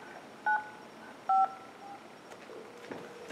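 Telephone keypad tones sound while an extension is dialed in the Linphone app on Android: two short, clear DTMF beeps spaced apart, followed by faint clicks and low background noise.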